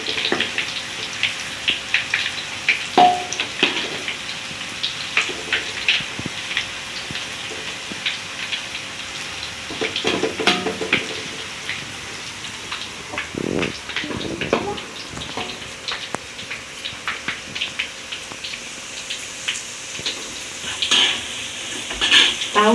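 Tofu and sardines frying in a pan and being turned over, a steady oily sizzle with scraping and clinking of a utensil, close and continuous.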